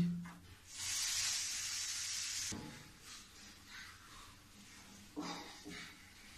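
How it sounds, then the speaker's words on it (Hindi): Wheat flour roasting in melted ghee over a low gas flame, a steady soft sizzle and hiss that swells for a couple of seconds, then fades to faint crackling with brief stirring scrapes. "अब मैं आटा डाल देती हूँ। अब मैं इसको धीमी गैस में भूनते रहूंगी।"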